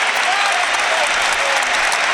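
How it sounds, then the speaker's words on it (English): Newcastle fans at a football match against Liverpool applaud a substitution in a dense, steady wash of stadium clapping that holds at full loudness throughout, with a faint voice beneath. "Applause from the Newcastle fans."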